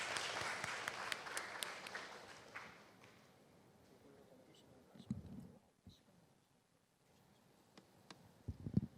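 Applause from the audience at a Korean conference talk panel welcomes a university professor to the stage, loudest at the start and fading to scattered, thinning claps with a few brief bursts later.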